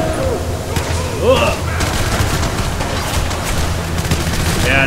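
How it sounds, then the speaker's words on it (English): Shotgun blasts from the violent shooter game Hatred, loud booming gunfire with dense crackling reverberation layered over continuous game noise and sound effects. "the shotgun is not the most reliable weapon"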